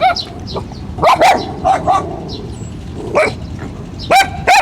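Several white dogs barking and yipping in short bursts near a naval base, some barks close and sharp, others farther off, with a steady outdoor hum underneath.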